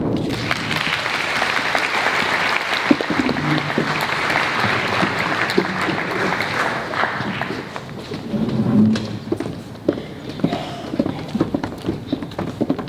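Conference audience claps steadily as panel members walk onto the stage, a dense sustained applause that thins into scattered individual claps and a few voices near the end.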